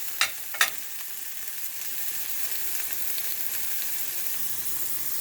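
Potatoes frying on a tawa in a home kitchen give off a steady, close hiss. Two sharp clicks or taps come at the start, then an even sizzle carries on alone.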